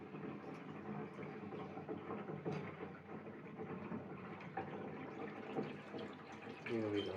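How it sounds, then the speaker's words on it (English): Water drains quickly from a freshly unclogged bathroom bathtub, a steady close gurgling rush of liquid that continues throughout with small splashes and a few louder swirls near the end. "I am going to open up the drain, and the water is draining quickly."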